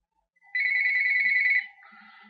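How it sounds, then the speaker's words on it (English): A telephone ringing with an electronic warble, one steady trill for about a second, then a softer trailing tone, clear and close in an otherwise quiet room. "Sorry about the phone."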